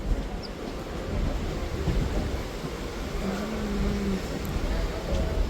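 A MEMU train on the Vijayawada–Rajahmundry line pulls in at platform four, giving a steady, close, low rumble and wind-like roar, with a brief tonal whine in the middle.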